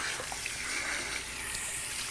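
Cool water from a salon tap runs steadily through hair during a rinse, a soft, even hiss of flow and splashing with no talking.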